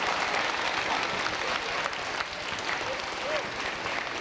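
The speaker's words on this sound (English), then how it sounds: "Let's bring him out, ladies and gentlemen, with a big round of applause, Mr. Hugh Anthony Clark." A pageant crowd gives a contestant a big round of applause, sustained thick clapping filling the room with some crowd noise mixed in, staying loud throughout with a slight dip midway.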